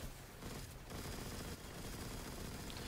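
A light machine gun fires in the video game Destiny, a dense, sustained roar of rapid gunfire that continues without a break and masks everything else.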